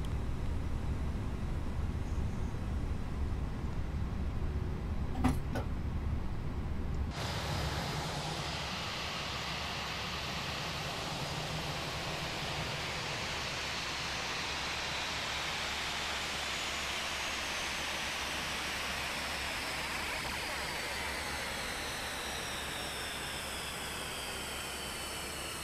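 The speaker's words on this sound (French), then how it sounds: "on peut couper les moteurs" Airliner engines spinning down in a Fenix A319 flight simulator, a broad steady roar that drops abruptly in the upper range after a few seconds, then a sustained, slowly fading low hum.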